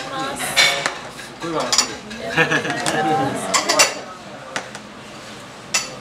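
Plates and cutlery clink and clatter as dishes are set down at a restaurant serving extremely spicy curry in Nagasaki, with scattered sharp knocks under ongoing conversation.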